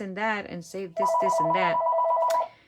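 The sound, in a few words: telephone ringing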